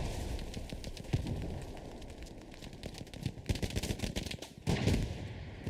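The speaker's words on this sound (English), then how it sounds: "Lots of sporadic gunfights going in on point." Sporadic gunfire crackles across a Hell Let Loose battlefield, with irregular single shots and short bursts at mid distance over a constant low rumble of combat ambience.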